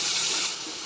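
Water pours steadily into a pan of semolina halwa that has been roasted light brown with sugar, a broad close splashing gush that eases slightly toward the end.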